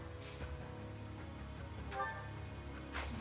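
Steady rain falls over a bleak battlefield in Fire Emblem: Three Houses, a continuous even patter at moderate level with a faint background music bed.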